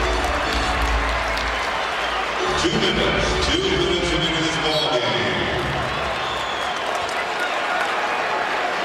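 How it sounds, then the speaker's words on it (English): A basketball arena crowd at a Lakers versus Raptors game applauds and cheers for Kobe Bryant, a steady roar of clapping and voices filling the hall beneath an announcer's talk. "the crowd's definitely into it"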